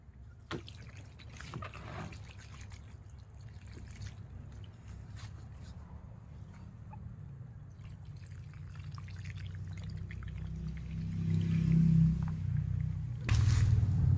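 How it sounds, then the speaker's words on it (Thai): Blackened wash water pours and trickles out of a vehicle battery, a steady close liquid stream with occasional drips and clunks, growing louder and gurgling near the end. "น้ำจะเปลี่ยนสีแล้วนะครับ เป็นสีดำเลยนะ เดี๋ยวมาลองเทดูกันนะ"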